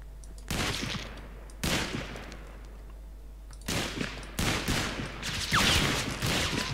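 Sustained bursts of rapid gunfire in Totally Accurate Battle Zombielator, a zombie survival game, with dense volleys broken by short gaps. The shots are loud and dominate throughout, with no voices over them.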